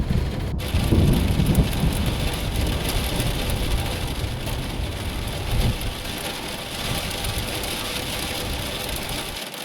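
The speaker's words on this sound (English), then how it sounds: "We're just in here enjoying the thunderstorm." Heavy rain pours steadily during a thunderstorm at a camp near a feldspar and bismuth mine, with loud low thunder rumbles in the first seconds and a dense, continuous downpour with no voices.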